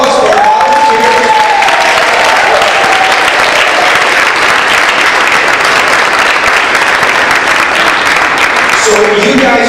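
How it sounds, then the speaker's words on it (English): Sustained applause from an audience greeting volunteers at a school fitness challenge event, loud and steady throughout, with voices faintly audible beneath the clapping. "How about a round of applause for our volunteers?"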